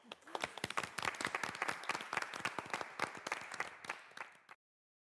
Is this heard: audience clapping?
yes